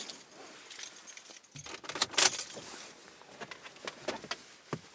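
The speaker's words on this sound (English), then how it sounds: "So now you want to grab your car keys." A bunch of car keys jangles and clinks close by in short bursts, loudest in the middle, with faint handling noise in a quiet room.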